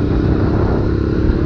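A motorcycle rides along a village road, its engine a loud, close, continuous rumble with rough low-end throb and wind noise throughout, no voices over it.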